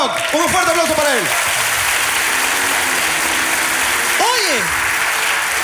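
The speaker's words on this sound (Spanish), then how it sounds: "¡Un fuerte aplauso para él!" Studio audience applause at a comedy talk show, loud sustained clapping filling the whole clip while someone shouts and speaks over it at the start and near the end.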